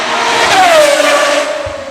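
Pagani Zonda R Evo Roadster race car roaring past at high speed: a loud, close engine note that rises into a sharp wail and then sweeps downward as the car moves away, dominating a brief burst of sound.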